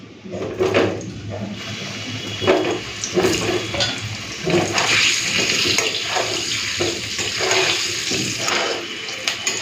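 Potatoes fry in hot mustard oil seasoned with salt and turmeric, a steady close sizzle with repeated bursts of spattering and crackle throughout.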